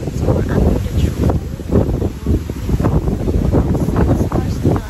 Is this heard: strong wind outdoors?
yes